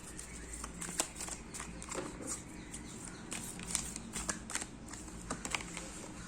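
Tarot cards being handled and drawn from a deck, with quiet, scattered papery flicks and soft taps close by in an otherwise hushed room.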